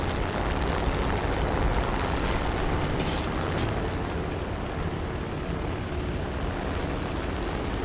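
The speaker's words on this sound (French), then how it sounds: "Il hésite. Accélère, accélère, avion de con. Juste un dernier passage." Airplane flies past with a steady, broad engine roar that stays loud throughout, with no voices.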